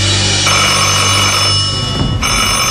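A telephone bell rings loudly and steadily for nearly three seconds, a continuous electric trill with no voices over it.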